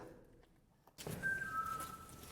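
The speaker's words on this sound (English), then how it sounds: "our audio recorder picks up what sounds like a human whistle" A faint, thin whistle-like tone sounds inside an old prison just after a dull knock, rising briefly and then sliding lower over about a second against quiet room noise.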